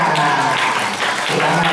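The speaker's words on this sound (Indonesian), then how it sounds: "Tepuk tangan semua." Sustained applause from an audience at an Isra Mi'raj film screening and prize-giving at a Quran school, a dense, steady wash of clapping mixed with voices throughout.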